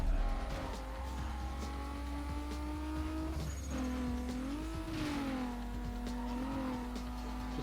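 Race car engine droning loudly and steadily with pitch rising and dipping, along with tire squeal, during a racing video game.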